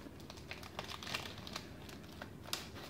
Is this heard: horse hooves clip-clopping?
no